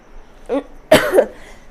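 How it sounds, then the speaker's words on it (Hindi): Two short, sharp coughs a moment apart, close and fairly loud, with the second burst stronger and rougher than the first. "खांसी चल रही है"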